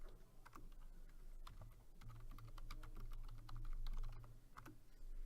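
Keys clatter on a computer keyboard in quick, irregular bursts of close, crisp taps, fairly quiet over a low steady hum.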